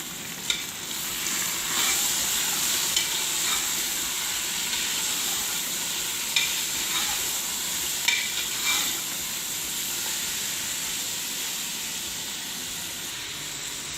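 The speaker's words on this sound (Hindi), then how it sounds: "अब हम चिकन को 15 से 20 मिनट के लिए बहुत अच्छे से भूनेंगे।" Marinated chicken with finely chopped green chillies frying and being stirred in a pan for chicken korma, a steady close sizzle with occasional stirring scrapes and bursts, no talking.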